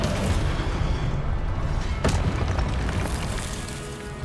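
A Descendo spell impact in the Hogwarts Legacy video game: a loud, deep boom that thuds sharply in the middle and rumbles out over a constant low roar of game noise.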